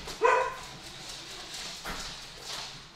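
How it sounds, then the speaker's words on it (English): A dog gives a single short bark, fairly close and moderately loud, followed by faint rustling and shuffling. "Dogs. Dogs."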